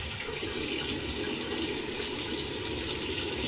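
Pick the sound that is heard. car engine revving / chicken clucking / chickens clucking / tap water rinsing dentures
tap water rinsing dentures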